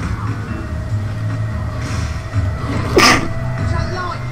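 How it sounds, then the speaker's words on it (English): A single sharp sneeze bursts out near the end, loud and close, over background rumble and game noise while someone talks during a Fable 3 playthrough. "Oh, that sneeze messed me up."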